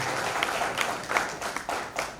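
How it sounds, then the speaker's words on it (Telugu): An audience breaks into steady, dense applause, many hands clapping together in a continuous wash of sound that swells in soft pulses and carries on without a break for a couple of seconds. "ఒక్కసారి ఆయన కోసం నేను అందరూ చప్పట్లు కొట్టాల్సిందిగా నేను"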